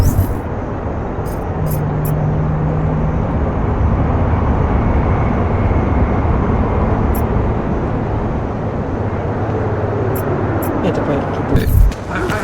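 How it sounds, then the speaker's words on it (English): An airplane passes overhead in Deus Ex: Mankind Divided, a broad, steady roar that fills the whole stretch without letting up, with a brief louder thump near the end. "Another damn plane."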